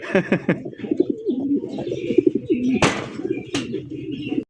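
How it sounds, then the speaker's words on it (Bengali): A pair of black stretcher pigeons coo softly and repeatedly in a low, rolling rhythm, close by, with a couple of sharp clicks or flaps cutting through. "এক জোড়া আপনার ব্ল্যাক কালার স্ট্রেচার কবুতর"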